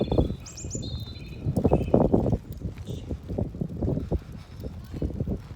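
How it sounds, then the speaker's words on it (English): Spring birdsong outdoors shows up as a few bright, brief chirps early on, faint behind someone talking close to the microphone, with some wind buffeting. "I thought I would just make a video to reflect on the bird song that you can hear in the background"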